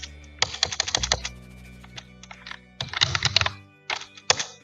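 Someone types on a computer keyboard at close range, with quick bursts of crisp key clicks and thunks broken by short pauses.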